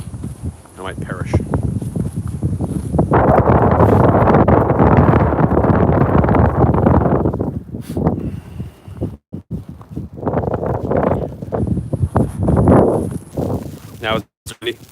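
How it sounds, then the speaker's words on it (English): Rough wind buffets and roars across the microphone in long gusts on a cold, snowy day in Baltimore, with a brief lull in the middle before it picks up again. "The wind is kicking up."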